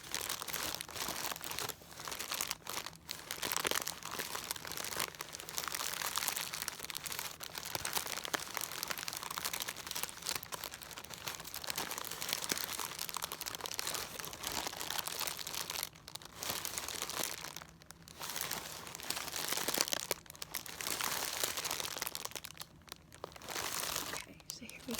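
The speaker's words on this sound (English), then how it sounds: "So I'll go ahead and unwrap them from the paper." Disney-print wrapping paper being unwrapped close up, with continuous crisp crinkling and crunching. The paper rustles in bursts with brief pauses, and faint whispering can be heard now and then.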